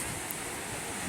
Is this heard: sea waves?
yes